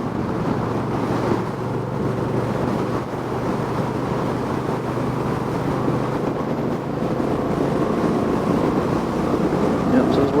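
A 2025 Honda Rebel 1100 SE DCT motorcycle engine drones steadily at moderate revs under heavy wind rush in cold weather, a continuous close rumble with no clear speech.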